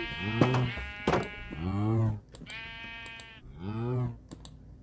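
Minecraft sheep bleat several times in a row, wavering and nasal, with keyboard clicks tapping between the calls.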